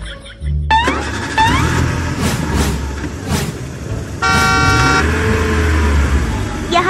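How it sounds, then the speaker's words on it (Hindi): Busy road traffic with car horns honking repeatedly, short toots and a longer sustained blare over the rumble of engines, close and loud, with a voice briefly audible. "बोबो यहाँ बहुत ट्रैफिक है"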